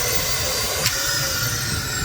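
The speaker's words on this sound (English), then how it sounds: "decided to do central vac." Central vacuum system running inside a 4x4 off-grid Sprinter van, a steady loud broadband whoosh with a constant airy roar throughout and a brief sharper click near the middle.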